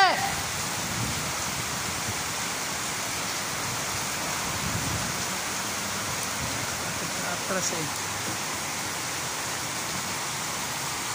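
Heavy rain pours down in a steady, dense hiss that fills the whole stretch, with a brief spoken voice near the start.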